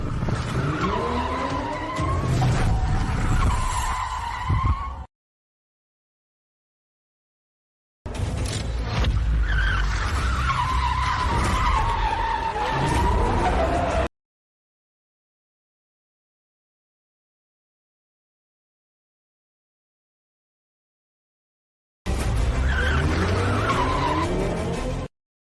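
A drifting car's tires squeal and skid in long, loud wailing bursts with engine roar, three separate stretches broken by silent gaps.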